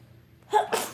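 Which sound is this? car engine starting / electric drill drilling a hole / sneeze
sneeze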